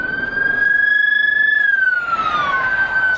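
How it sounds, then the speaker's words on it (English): Sheriff patrol cars pass close on a city street in Reno, Nevada, their sirens wailing loud and high, one steady tone bending downward as they go by, with traffic rumble underneath. "I hear an ambulance coming at us."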